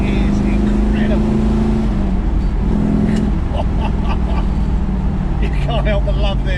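A 1968 Shelby Mustang 500GT with a manual gearbox is driven hard, its engine droning loud and steady from up close with a deep low rumble throughout, while a voice speaks over it.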